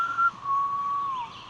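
A person whistles back in imitation of an animal call during a Bigfoot encounter at Land Between the Lakes, giving a short note and then a longer sustained tone that slides slightly downward, clear and fairly close, with no talking.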